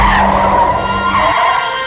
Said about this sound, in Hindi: गाड़ी एक बार फिर से अपने आप रुकी।